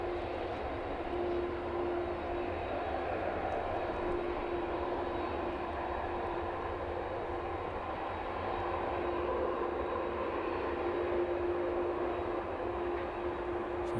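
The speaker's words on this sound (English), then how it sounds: "So we'll stay with the 767 for the time being" A Boeing 767 cargo plane at East Midlands Airport, on a busy cargo ramp, hums steadily with a constant engine whine held at an even, moderate level throughout.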